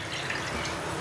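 Milk being poured from a measuring vessel for cardamom milk kesari, a steady close liquid trickle and drip lasting about a second with no voices.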